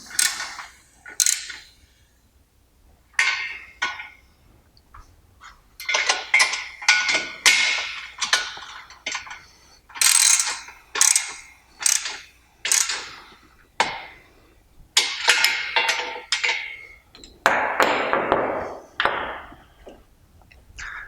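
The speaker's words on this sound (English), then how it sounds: "I can use the ratchet with the 9/16 socket and a 9/16 wrench to tighten the back" A ratchet with a 9/16 socket and a 9/16 wrench tightens frame bolts during a CrossFire assembly, giving repeated close bursts of sharp metallic clicking separated by brief pauses.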